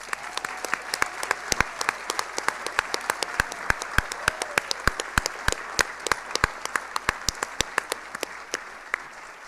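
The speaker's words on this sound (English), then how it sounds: "They deserve a round of applause." A school auditorium crowd applauds new National Honor Society inductees at an induction ceremony, with loud, sustained clapping and sharp individual claps standing out near the microphone, steady throughout.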